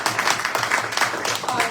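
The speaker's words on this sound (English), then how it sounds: "Can we give it another round of applause?" Audience applause at a Maplewood community gathering, a dense patter of many hands clapping, loud and close, with a voice speaking under it.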